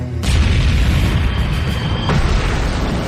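Tank cannon shots strike enemy tanks in a World War II tank video game, a loud booming blast at the start followed by a second sharp impact about two seconds later, with rumbling between them.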